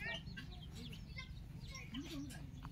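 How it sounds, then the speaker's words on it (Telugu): Chickens on a farm give soft, scattered clucks and low chirpy calls, faint and fairly close, over a dull outdoor background. "అదేవిధంగా కోళ్ళు కూడా ఉన్నాయి ఫ్రెండ్స్."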